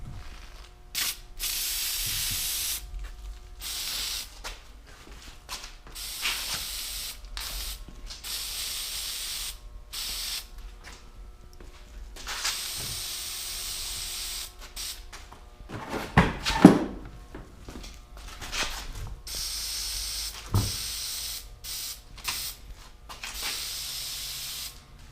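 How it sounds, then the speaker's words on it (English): Repeated bursts of hissing aerosol spray onto the inner and outer surfaces of a foam UNI ATV air filter, short and long, with pauses between them and occasional clicks and handling noise. "Hold can about 12 inches from the filter. Spray inner and outer surfaces thoroughly."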